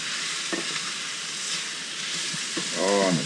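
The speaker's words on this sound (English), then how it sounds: "We're going to keep moving it around the pan so everything gets a chance to cook" Wild west coast paua (abalone) sizzles and fries in a pan as it is stirred around, a steady close crackle with soft scraping, and a brief voice near the end.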